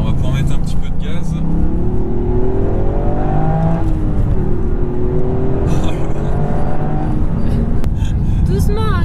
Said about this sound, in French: Alors, on va pouvoir mettre un petit peu de gaz.